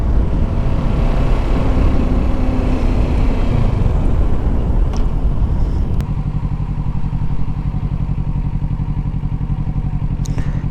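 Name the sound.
motorcycle riding on the road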